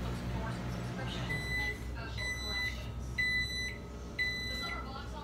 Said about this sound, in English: Sounds like her old microwave.